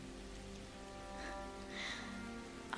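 Steady rain falls on flat, waterlogged ground in New York, a soft continuous patter at low level with no voices.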